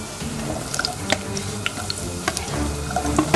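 Onions and garlic frying in oil in a pot give a steady busy sizzle with scattered crackles and pops, and a faint watery clatter underneath.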